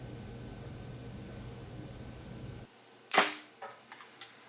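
A Mathews V3X compound bow fires an arrow: after a quiet hum of background noise, one sharp close crack of the release rings out, followed by a few smaller rattles and taps as the shot settles.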